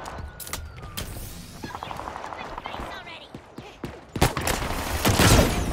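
An electric sniper rifle firing in the shooter Halo Infinite: several sharp, crackling shots scattered among busy game noise, ending in a louder, rougher blast.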